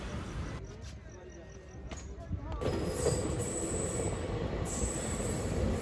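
The Begumpura Express runs at speed through Bareilly Junction, its wheels roaring on the rails with squeals and rattling carriages that swell louder midway as the station passes.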